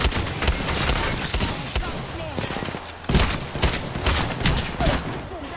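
Rapid gunfire in an Apex Legends firefight, dense bursts of shots and impacts crowding close together, loud and near, with brief gaps and voice callouts mixed in.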